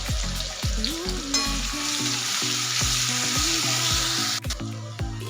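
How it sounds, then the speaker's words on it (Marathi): Paste of ginger, garlic and green chilli frying in hot oil gives a steady, loud, bright sizzle that runs throughout, with a tonal melody underneath. "ही आपल्याला तेलामध्ये टाकून कच्चेपणा जाईपर्यंत परतून घ्यायची आहे।"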